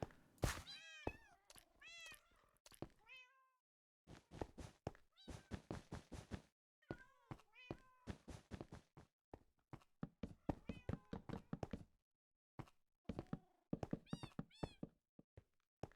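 Cats meowing in the Minecraft video game, many short, high, repeated meows in quick clusters with brief silent gaps, loud and close, some overlapping, with occasional soft thunks.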